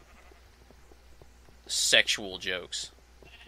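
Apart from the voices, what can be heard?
sheep bleating in Minecraft video game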